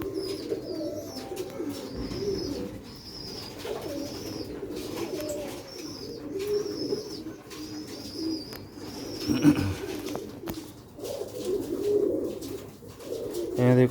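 Sialkoti pigeons coo in repeated soft, throaty phrases at close range, with a steady murmur of background noise and a few brief louder bumps.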